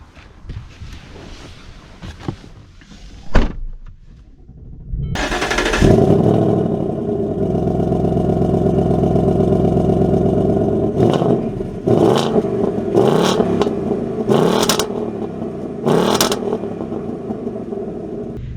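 Door shutting and clatter, then a 2024 V8 muscle car engine firing up into a loud, steady rumble close by as it drives off, with sharp revving bursts near the end.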